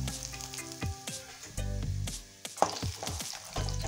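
Peanuts fry in oil already used for frying poha while making Solapur-style Lamboti corn chivda, giving a close, steady sizzle that swells and dips over a few seconds beneath tonal background music, with no speech.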